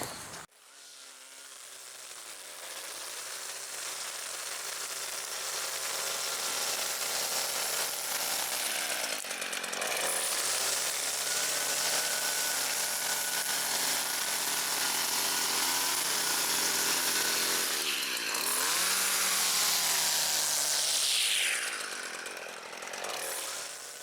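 A gas-powered string trimmer trims and edges the lawn at an old house, its engine whining loud and steady throughout, revving up and down with brief dips as it cuts.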